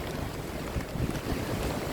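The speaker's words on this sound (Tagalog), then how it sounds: "Lakas ng hangin." Strong typhoon wind in Hong Kong buffets the microphone in a steady, rough roar, with the wash of open sea water beneath it and no voices.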